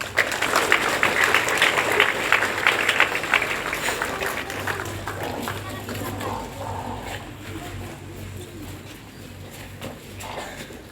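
Applause from an audience at an Indonesian-language class or quiz session, loud and dense at first, then thinning and fading into a softer murmur with a low hum underneath.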